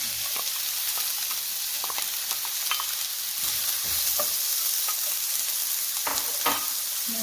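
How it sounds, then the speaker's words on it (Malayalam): Sliced onion goes into hot coconut oil for a prawn roast, giving a steady, dense sizzle and hiss with scattered crackles and pops. The frying stays close and continuous for the whole stretch, with occasional stirring and no talking. "ഇതിലേക്ക് നമുക്ക് അരിഞ്ഞു വെച്ചിരിക്കുന്ന സവോള ഇട്ട് കൊടുക്കാം."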